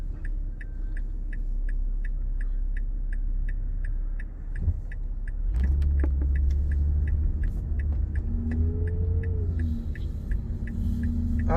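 Car driving slowly through a small town, a steady low engine rumble and road hum with a regular ticking like a turn signal early on, then a louder surge of engine noise midway, heard from inside with no talking.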